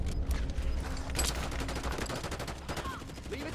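Gunfire in the video game Call of Duty: a quick volley of shots rattles out under a low rumbling battle din, with scattered bursts over a steady background roar at fairly low level.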